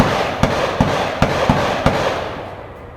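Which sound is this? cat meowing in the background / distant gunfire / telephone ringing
distant gunfire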